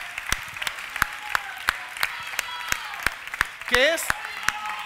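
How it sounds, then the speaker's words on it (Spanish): A studio audience on a TV talk show claps in a slow, steady unison beat, each sharp clap evenly spaced, while a voice briefly speaks partway through. "Fuerte aplauso para Jair Domínguez."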